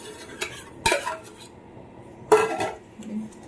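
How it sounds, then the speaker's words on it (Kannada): A utensil scrapes and knocks around a bowl while rice-flour dough is mixed, with two louder clattering strokes among softer taps. No voices. "ಒಂದು ಬೌಲ್ ಹಾಕ್ಕೊಂಡು ಮಿಕ್ಸ್ ಮಾಡ್ಕೊಬೇಕು"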